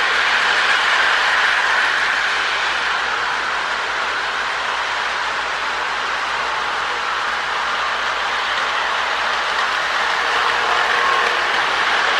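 Marx E7 long pilot toy locomotive with a power pull motor running, a steady close whirring hum with a hissy, rattling texture, continuous and unbroken, with no voices.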